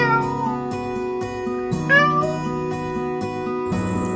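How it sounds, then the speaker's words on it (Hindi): A cat meows a few times, short rising calls set against a sustained musical accompaniment. "बिली करे थी म्याऊं म्याऊं,"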